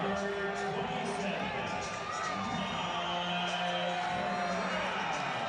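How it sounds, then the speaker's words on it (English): Baseball stadium crowd at an Angels home game against the Cardinals lets out a sustained, mildly sarcastic cheer, a steady wash of distant voices and whoops filling the ballpark without any sharp peaks. "I think that's just a little sarcastic cheer from the crowd here."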